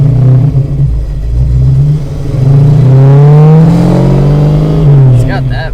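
Up close, a 500hp Fox Body car engine revs loudly, climbing in pitch through a sustained pull and then dropping off near the end.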